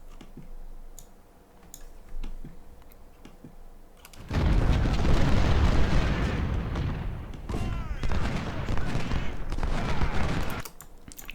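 Dense musket volleys and cannon fire from a Civil War battle near a fort in the strategy game Ultimate General: Civil War, a sustained loud roar of overlapping shots after a quieter opening of faint scattered pops.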